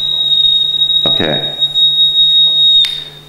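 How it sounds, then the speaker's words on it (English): An electronic beeper buzzer swung around on a cord gives off a continuous high-pitched tone, with a short burst of a voice partway through in a room lecture setting. "You hear the pitch of the buzzer going up, down, up, down, up, down every time it spins around."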